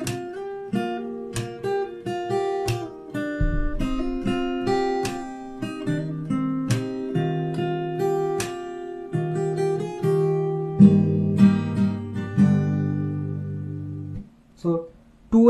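Fingerstyle acoustic guitar plays the chorus of a song solo, with plucked melody over bass notes and some paired strings sounded together, close and clear, ending with a brief pause.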